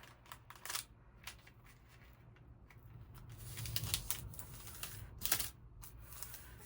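Thin onion skin paper being folded toward the center for a fodder pocket, giving soft, close crinkles and rustles in several short bursts with quieter handling between.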